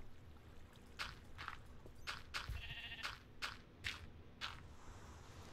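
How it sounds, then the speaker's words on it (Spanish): Sheep in the video game Minecraft bleat in a string of about seven short, repeated calls spread evenly across several seconds, fairly close and clear over a low ambient rumble, with no talking. "Oveja."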